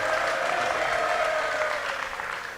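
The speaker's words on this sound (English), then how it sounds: "And that in itself deserves a round of applause." A school leaving ceremony audience applauds, many hands clapping in a steady, full wash that fades slightly toward the end.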